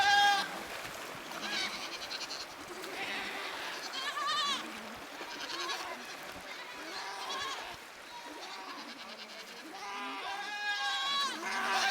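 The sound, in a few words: goat bleating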